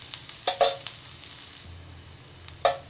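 Onion frying in oil in a pan, a soft continuous sizzle punctuated by a few sharp scraping stirs, close and moderately loud with no voices.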